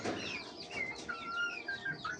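Native desi chickens kept on a small poultry farm cluck and chirp softly, a quiet scatter of short high calls overlapping one another with faint background rustling and no talking.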